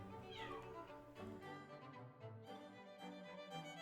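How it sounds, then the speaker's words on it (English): A cat yowls in a hallway with long, loud, wavering cries that run almost continuously, heard close and clear with no talk over them. "the cat has decided to start yelling in the hallway"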